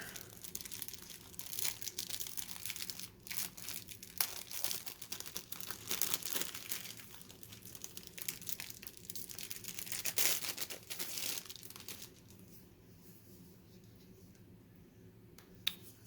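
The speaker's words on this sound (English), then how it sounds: "So I just got to peel the plastic away." Plastic wrap peeled and torn off a Legend of Zelda: Tears of the Kingdom collector's edition box, close crinkling and crackling with sharp snaps, quieting toward the end, no speech.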